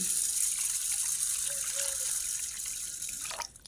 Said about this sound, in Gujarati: હવે પાણી એડ કરી